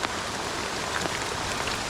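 Rain falls steadily in a dense, even hiss outdoors during a mountain bike ride stop at Mt. Ping, with no pauses or talk.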